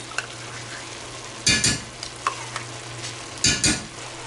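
Vegetables and tomato paste for a keto chili sizzle steadily in a pan while a spoon stirs them in two bursts of scraping, with lighter taps in between and a low hum underneath.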